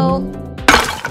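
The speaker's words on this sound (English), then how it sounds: "Next, we will break some shapes." A kinetic sand shape gets smashed, a single sharp crumbly burst close up that follows a short spoken word.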